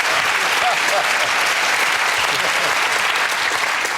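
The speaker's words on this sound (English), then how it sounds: "you deserve a round of applause for that" Studio audience applause on the panel game show Just A Minute, a dense, steady wash of clapping that holds loud and unbroken from start to finish.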